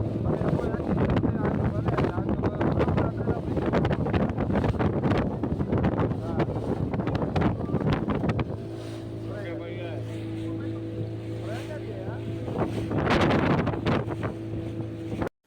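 A motorboat heads out to Bet Dwarka from Shivrajpur, its engine droning low and steady under heavy wind buffeting the microphone. Voices talk over the noise, and the wind eases halfway through to leave a clearer engine hum.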